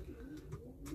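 Large pigeons kept as a breeding pair give a brief, soft, low coo, faint and close, with no talk over it.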